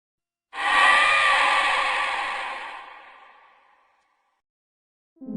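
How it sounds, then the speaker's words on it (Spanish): A long, harsh, distorted scream with heavy echo bursts out loudly, then slowly fades away over a few seconds. "Era como si un grito distorsionado resonara en la habitación"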